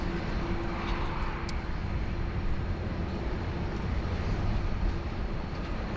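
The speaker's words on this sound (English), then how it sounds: "This must be the Qantas flight 19 heading to Manila. Taxiing for departure here" A Qantas airliner taxis for departure toward runway 16 right at Sydney Airport, heard as a steady, broad jet engine rumble and whine at a distance, constant and unbroken with no voices.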